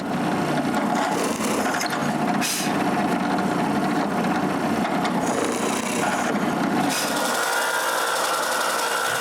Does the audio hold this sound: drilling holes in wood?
yes